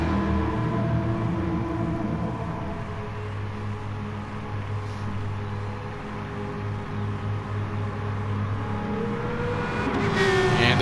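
Race cars in the Gran Turismo video game lap under green flag during an online league Christmas race, with a steady, loud engine drone and shifting pitch that swells near the end as cars pass.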